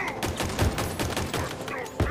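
A burst of rapid video game gunfire, a quick fusillade of sharp repeated shots spread across two seconds, fairly quiet overall.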